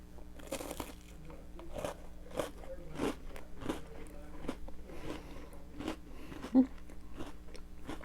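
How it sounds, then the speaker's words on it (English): Someone bites into a peanut butter Oreo ice cream sundae, with crisp crunches and chewing repeating close to the mic at a steady pace. "I just want a chunk of this peanut butter Oreo."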